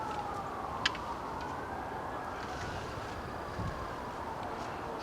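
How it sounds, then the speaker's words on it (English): A distant emergency siren wails faintly and steadily beneath a continuous wash of wind and outdoor background noise, with no voices. "It's just impossible to avoid the sirens"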